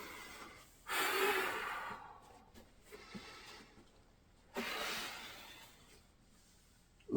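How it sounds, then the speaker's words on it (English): Deep, slow breaths while lying on the back during a golf core workout, two long audible inhales and exhales close up with quiet pauses between them. "A couple of deep breaths on the way down."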